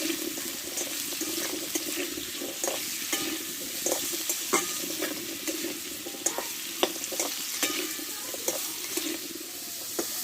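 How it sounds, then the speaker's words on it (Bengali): Potatoes sauté in a pan for a Bengali-style vegetable dish, with a steady sizzle and repeated scraping clinks of a spoon stirring throughout, with no one talking. "আলুটাও একইভাবে আমি কষে নেবো পটলের মতনই"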